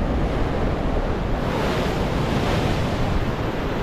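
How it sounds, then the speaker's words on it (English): Loud, continuous rush of waves and moving water near a sea cave fishing spot, with wind buffeting the microphone and no talking. "There's definitely a lot of water moving."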